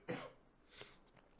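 A single cough bursts out nearby, followed by a couple of softer throat-clearing coughs, with no talk over them.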